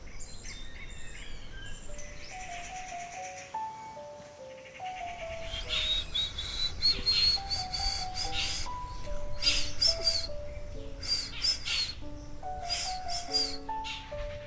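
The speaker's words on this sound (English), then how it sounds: "It's called the brain fever bird." A brain fever bird sings repeated high, whistled phrases in the jungle on a nature walk, fairly faint and distant, with other bird calls and a steady insect-like drone around it.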